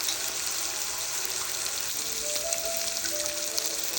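Chili hitting hot oil in a wok while squid is cooked, giving a steady, dense sizzle and crackle that holds evenly throughout, close by, with no talking.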